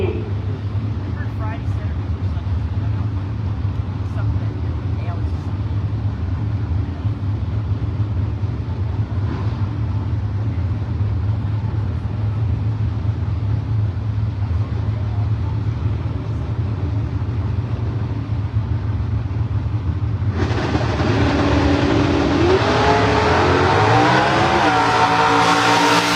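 Drag racing cars, including a 2015 Camaro and a 1967 Camaro, roar down the strip at a Great Lakes drag racing event, a steady loud engine drone with a sharp rising howl near the end, under a commentator's voice.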